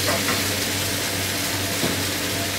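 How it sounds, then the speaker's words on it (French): Root vegetables sizzling in several sauté pans, a steady close hiss and crackle of frying with a low hum beneath, no voices. "on va cuire tous nos légumes racines dans des sauteuses un petit peu différentes"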